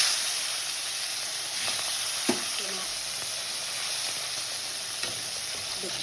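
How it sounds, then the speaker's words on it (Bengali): Steady broadband sizzle of tangra fish frying in hot oil runs throughout, with a few faint clinks and no talking. "তেলটা গরম হয়ে গেছে, এবার মাছটা ছেড়ে দিচ্ছি"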